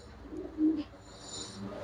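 Pure-breed pigeons give soft, low cooing in a short, quiet stretch, with a brief faint chirp partway through.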